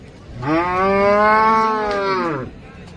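A single long, loud moo from a dairy cow at a cattle market in Kashti, Shrigonda, lasting about two seconds, close by, with no talking.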